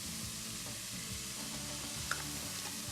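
Onions sizzle softly in a pan as turmeric, cinnamon and ginger are stirred through them for a Moroccan chicken tagine, a quiet even crackle with light stirring scrapes and one small click.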